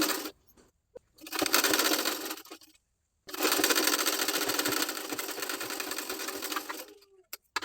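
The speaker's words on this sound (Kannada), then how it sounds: "ಇಲ್ಲಿ ಬ್ಯಾಕ್ ಟಕ್ಸ್ಗಳನ್ನ ಸ್ಟಿಚ್ ಮಾಡ್ಕೊಳ್ತಾ ಇದ್ದೀನಿ." Sewing machine stitching back tucks on a blouse, running in two long, loud bursts of steady rapid whirring with short pauses between them and a brief click near the end.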